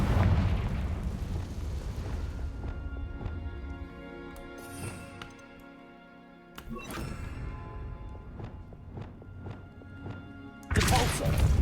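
Blasting-spell explosions from the Hogwarts Legacy video game: a deep, rumbling boom that decays over several seconds amid a sustained game soundscape, followed by another abrupt loud burst near the end.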